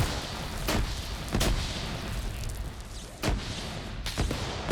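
Explosions and gunfire in a WW2 video game, four sharp booming bursts spaced roughly a second apart, loud and close over a steady background rumble, with no talk.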